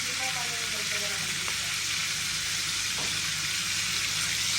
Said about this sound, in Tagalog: Ipiprito niya.